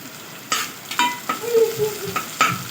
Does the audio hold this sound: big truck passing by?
no